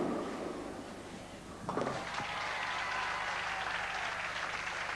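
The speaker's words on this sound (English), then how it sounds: "a good round of applause for Paul Morland's first ball on national television" Audience applause at a 1985 men's semi-final bowling match, a steady wash of clapping that swells noticeably partway through and holds at a fairly loud level.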